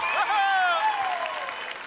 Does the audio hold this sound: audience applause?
yes